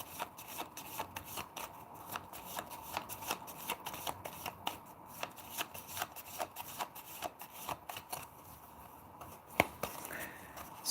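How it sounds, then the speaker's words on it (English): A tarot card deck is shuffled by hand, a quick run of crisp riffling and flicking bursts repeating rhythmically throughout, close and quiet with no talking. "We will shuffle once again."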